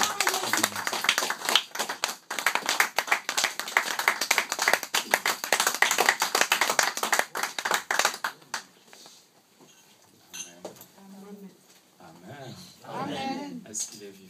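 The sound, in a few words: church congregation clapping and cheering to welcome a bishop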